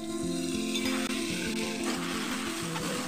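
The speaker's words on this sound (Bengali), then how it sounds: "সব উপকরণগুলোকে খুব ভালোভাবে মিশিয়ে নিয়ে আমি 1 মিনিটের মতো মিডিয়াম ফ্লেমে এগুলোকে ভেজে নিচ্ছি" Potato and pointed gourd with mung dal fry in a pan over a medium flame, a steady close sizzle with faint stirring scrapes throughout.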